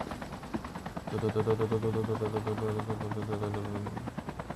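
Helicopter in Call of Duty Mobile battle royale, a steady rapid rotor chop with a droning engine tone that holds loud for a few seconds, then thins out.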